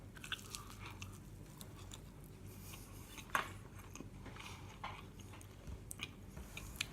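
Grilled lemon bourbon chicken drumstick cooked on a Weber kettle being eaten, with close, soft chewing and biting over several seconds, one sharper bite standing out midway, against a faint outdoor background and no talk.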